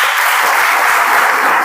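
A loud, dense burst of clapping from a youth convention congregation in a parish gathering, sustained and close with no talking over it.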